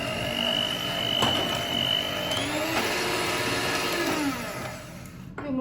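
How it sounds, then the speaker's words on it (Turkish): An electric hand mixer whirs steadily with a high-pitched motor hum, beaters rattling in a bowl whisking eggs and sugar, before the motor winds down near the end. "Böyle ilk önce sonra açabilirsiniz mikseri"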